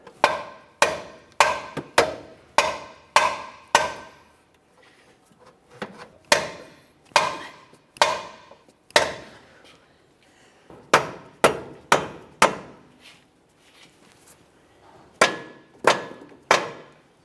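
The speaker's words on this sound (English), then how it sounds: "You may have to tap this into position lightly using a rubber mallet if necessary." A rubber mallet taps a new front lower control arm into the subframe of a 2015-2019 Subaru Outback: sharp, close knocks in quick clusters of two to five, separated by short pauses.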